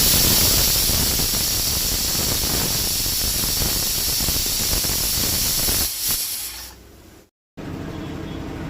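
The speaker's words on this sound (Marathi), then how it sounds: "आता गॅस चालू करून 3 शिट्यो काडपाक जाय." A pressure cooker cooking rice and moong dal on a gas stove releases a loud, sustained hiss of escaping steam that fades after several seconds, followed by a brief silence and quieter residual hissing.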